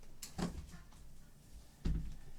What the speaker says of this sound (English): Let me just shut the door again.